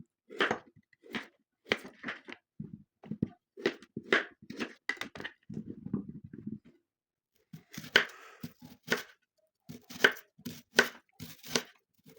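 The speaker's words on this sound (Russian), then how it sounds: "Режем лук." An onion is chopped with a knife on a board, giving sharp, close knocks in irregular bursts, some quick runs of rapid taps, with short pauses and no talking.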